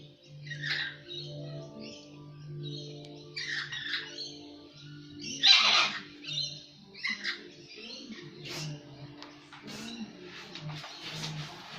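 Birds squabbling over food in Sydney, a run of harsh squawks, chirps and scratchy calls from two kinds of bird, close and irregular over faint background rustle, no speech.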